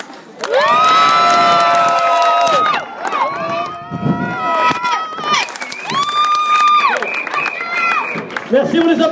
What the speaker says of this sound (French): Merci, on les applaudit bien fort.